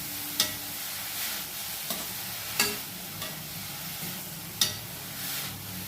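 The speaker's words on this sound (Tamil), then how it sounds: "நல்லா ஒரு 3 நிமிஷத்துக்கிட்ட நல்லா வதக்குங்க." Grated carrot sizzles steadily in a pan as it is sautéed for carrot halwa, with a spoon scraping and stirring at intervals of about a second or two, close and clear.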